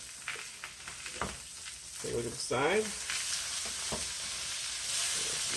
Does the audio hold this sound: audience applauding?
no